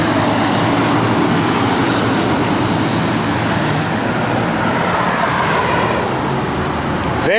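A 1955 Chevrolet 210 engine idles steadily close by, a low rumbling drone with a slight thumping pulse throughout.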